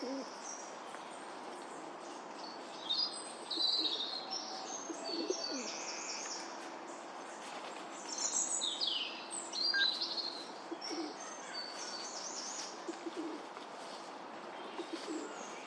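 A male and female parrot pair call in a park, with sharp high squawks and chirps in scattered bursts over steady background bird chatter and outdoor ambience, at moderate distance.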